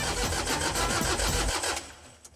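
A smoky improvised scrapheap engine fires up with a rapid chugging beat, running loud and rough for about a second and a half before cutting out and fading to near silence.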